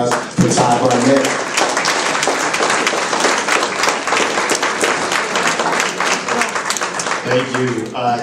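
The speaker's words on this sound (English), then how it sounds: "Everybody please give a round of applause for Todd Barnett." A crowd applauds loudly and steadily for several seconds at a city community meeting on public safety in Minneapolis, dense clapping filling the room, with a voice speaking briefly at the start and again as it fades.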